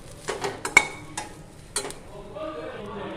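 Moringa leaves are dry-roasted in a pan until charred, for a natural hair dye. A spatula scrapes and clinks against the pan in a few distinct strokes, followed by a soft, continuous rustling sizzle.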